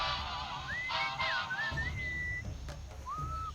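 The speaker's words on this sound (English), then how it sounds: "What is that enchanting whistling sound?" A melodic whistled tune in the video game Sam & Max Beyond Time and Space, gliding notes over a steady rhythmic musical backing, pausing briefly before a final rising phrase.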